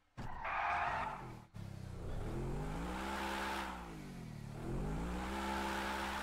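A Bugatti in GTA V sliding on the handbrake, with loud tire skids and a revving engine that rises and falls in two long sweeps, with no voices over it.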